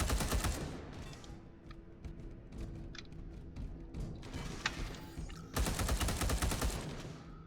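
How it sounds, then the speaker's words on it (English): Bursts of rapid video game gunfire crackle in volleys, with heavy thumping explosions mixed in, loud and close with a short lull midway. "see, those explosions, if I'm around, I take a lot of damage"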